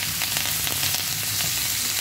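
Salsify sliced long, sizzling steadily in a hot pan with thyme, a constant dense crackle and hiss of frying heard close with no voices.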